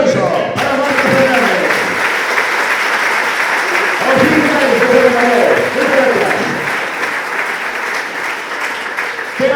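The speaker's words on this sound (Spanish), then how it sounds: "Un aplauso para Marcos Fernández." Warm, sustained audience applause fills a cycling club gala hall, a crowd clapping steadily for several seconds, with voices surfacing midway and the clapping easing toward the end.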